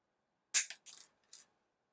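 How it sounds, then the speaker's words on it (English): Small end nippers from a mini plier set snipping the end off a tiny wire spring, a sharp crisp snap followed by a few quick light metallic ticks, then silence. "Now there might be cases where you need to cut the end off, so you can use the end nippers here."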